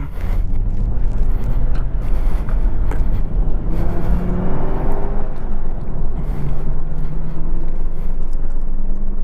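A 2018 Camaro ZL1 1LE pulls out onto the Hallett racetrack, its engine a deep, loud, steady rumble heard close from inside the car, rising and falling slightly as it accelerates.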